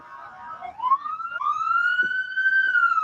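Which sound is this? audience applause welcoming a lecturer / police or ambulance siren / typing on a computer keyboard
police or ambulance siren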